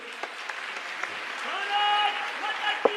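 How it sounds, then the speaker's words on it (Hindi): An audience at a Sanatan religious conference gives a round of applause to welcome a guest, with scattered claps under a voice and some tonal sound mixed in. "एक बार जोरदार तालियों से स्वागत करेंगे।"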